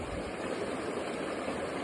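Water swirls and rushes during gold panning at an alluvial site in Normandy, France, a steady broadband wash that stays even and moderately faint throughout, with no voices.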